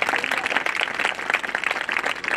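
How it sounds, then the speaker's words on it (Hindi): Church congregation clapping together during a Punjabi-language sermon, a brisk, continuous patter of many hands, moderately loud with faint voices mixed in. "ताली मारो परमेश्वर दी"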